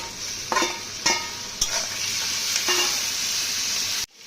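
Ridge gourd curry cooks in a pan with a constant hissing sizzle, broken by several sharp scraping stirs of a utensil before the sound cuts off abruptly.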